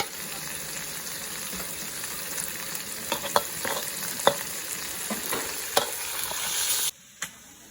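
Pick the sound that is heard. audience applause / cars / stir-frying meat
stir-frying meat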